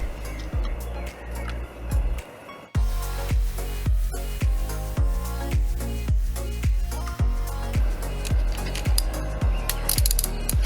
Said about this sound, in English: using a torque wrench. The values I'm selecting are depending on the size of the screw and on the grade of the screw.